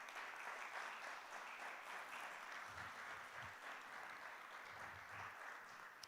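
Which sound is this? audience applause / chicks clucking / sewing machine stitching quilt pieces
audience applause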